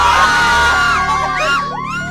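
Students crying out and shrieking in fear inside a bus, a dense burst of overlapping high-pitched yells and screams from a group, loud and close.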